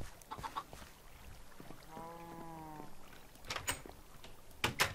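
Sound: chickens clucking in a Minecraft chicken farm, from a video game

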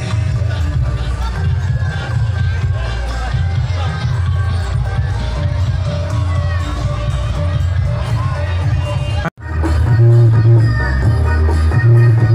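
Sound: audience applause for Retak Tanjung Sari at carnival

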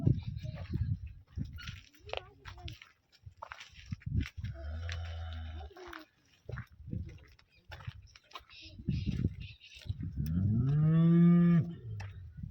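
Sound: cattle mooing, young bulls at a livestock trader's

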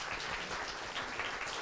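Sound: audience applause for debate speakers

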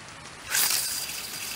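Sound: rain in a video game

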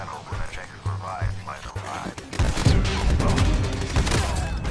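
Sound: shotgun gunfire in a video game

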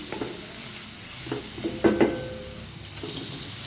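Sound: onion pieces frying with salt and turmeric

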